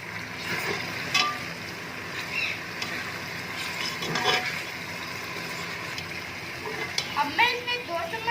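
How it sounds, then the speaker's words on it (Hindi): Ginger garlic paste being stirred into beef paya in a pot, with a steady sizzle under scraping spoon strokes and a few louder clinks, no voices. "अब हम इसमें 2 चम्मच अदरक और लहसुन का पेस्ट डाल देंगे।"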